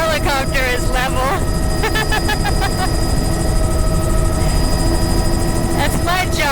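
Helicopter rotor and engine drone sustained and fairly loud throughout, heard at a coastal shoreline with water nearby, with voices talking over it and some tonal chirps layered on top.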